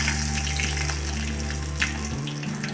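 Curry leaves sizzle and crackle in hot oil for dal fry, a steady close frying hiss with a low hum underneath and no voices.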